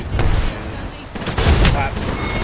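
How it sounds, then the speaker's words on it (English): Gunfire from the battle royale video game Apex Legends, in bursts of rapid shots with a heavier volley near the middle, loud and close within continuous game noise. "I'm getting shot from that dude."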